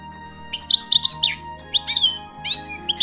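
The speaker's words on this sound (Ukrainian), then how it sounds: "Щиглики ці птахи зимують на узліссі" Goldfinches calling in a winter setting at a forest edge, with several bright, quick twittering chirps in clustered bursts, fairly close and clear over a low steady background hum.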